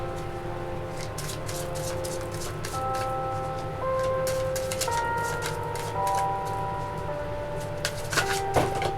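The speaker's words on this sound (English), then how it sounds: "So I'm going to take the time and shuffle a few." Tarot cards being shuffled by hand for a reading, a soft papery riffling and slapping that runs steadily throughout with clicks and a few sharper snaps near the end, over faint background music tones.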